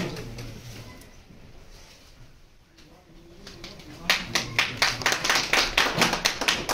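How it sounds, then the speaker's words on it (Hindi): A crowd at a farewell gathering for a retiring education officer breaks into sharp, rhythmic clapping after a quiet stretch of murmur, the claps loud, close and evenly spaced. "जोरदार तालियों से"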